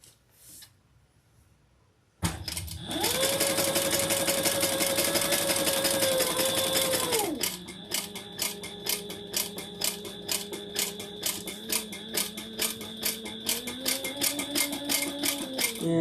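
A sewing machine stitches a mini tote bag, its rapid mechanical whir starting abruptly and running steadily, then shifting to a slower, lower-pitched run for the rest of the clip, with no talking.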